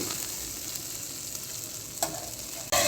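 Okra with green chillies frying in hot ghee sizzles steadily throughout while being stirred, with a couple of brief louder scrapes near the end.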